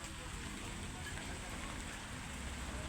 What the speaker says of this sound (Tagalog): Inabot ng ulan.